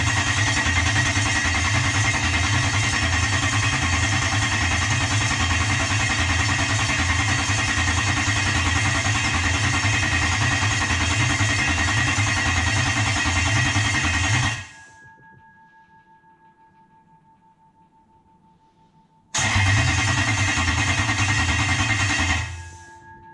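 A Toyota or Lexus V8 is cranked over on the starter without firing to prime the oil pump. A long stretch of rhythmic, loud mechanical churning stops into near silence with a faint steady tone, then a second shorter burst of cranking follows and cuts off.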